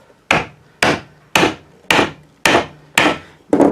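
A chisel chops a mortise in wood with seven evenly spaced, sharp mallet strikes, each a loud close thwack with a short woody ring, about half a second apart.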